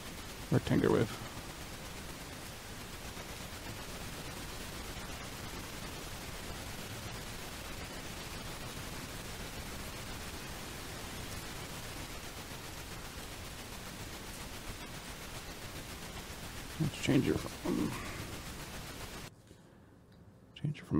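Broadband hiss from the noise source of a Moog Model 15 synthesizer app on iPad, a steady wash that holds for most of the stretch, with brief louder bursts near the start and near the end before it cuts out.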